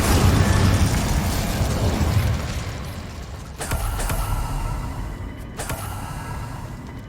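The Incendio fire spell is cast in Hogwarts Legacy, giving a loud whooshing burst of flame that rumbles and fades, followed by two sharper magical pops.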